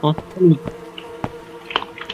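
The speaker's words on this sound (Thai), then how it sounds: "เสียงแมลงวันเต็มเลย" Flies buzz in a Roblox horror game, a few short droning passes among clicks and game noises, with faint talk underneath.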